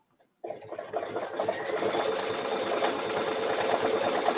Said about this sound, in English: I'm going to hold these two threads together as I start my machine stitching